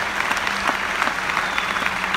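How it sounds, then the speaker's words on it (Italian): Audience applause fills the hall at a Ducati motorcycle launch at the EICMA show, a dense, steady clapping crowd sustained throughout without speech. "A big applause again for Jas Davis."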